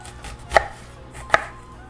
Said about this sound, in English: let's start chopping all the other veggies